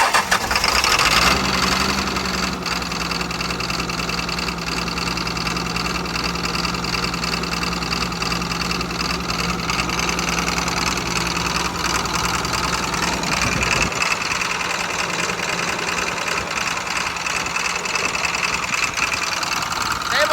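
A Caterpillar 320 excavator's diesel engine cranks and catches, then runs at a loud, steady idle with a low rumble, faltering briefly partway through before settling into a rougher idle; no clear talk over it.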